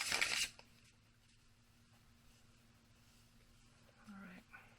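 A short burst of tarot cards being shuffled at the start, crisp and close, then near silence with a brief voice near the end.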